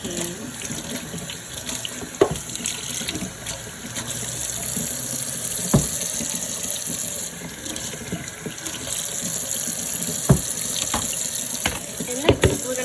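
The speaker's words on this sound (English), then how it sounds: "The first thing I want to do is wash the tops off the can." Tap water runs steadily into a kitchen sink while can tops are rinsed before cooking beans and lentils, a continuous splashing hiss broken by a few sharp clinks of metal cans near the faucet.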